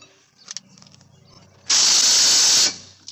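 An air tool tightens suspension bolts on a first-generation Scion xB during a lift install, giving one loud, close, hissing burst of about a second after faint handling noises.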